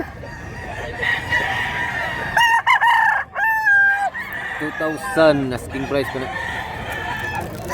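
A big-sized bull stag rooster at a Cebu market crows loudly and close with a rising, drawn-out call, followed by clucks and other fowl noises while someone talks about the price.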